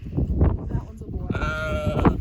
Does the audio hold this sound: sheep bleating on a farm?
yes